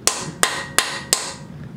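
Four sharp metallic hammer blows strike a metal chisel to drive out a broken cam cap bolt on a Honda Prelude, evenly spaced and close, each ringing briefly before the next.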